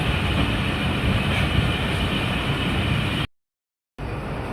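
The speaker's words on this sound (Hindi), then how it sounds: "ट्रेन निकल रही है लाडी जंक्शन रेलवे स्टेशन से" The Rehman Baba Express pulls out of Ladi Junction railway station in Pakistan with a loud, steady rumble and rattle of rolling carriages. The sound cuts out briefly near the end, then resumes.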